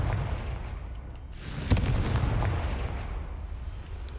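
A Confringo fire spell bursts in Hogwarts Legacy, a single sharp blast midway that rolls into a loud, rumbling roar and slowly fades over a steady low background hum.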